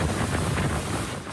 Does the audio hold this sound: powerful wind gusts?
yes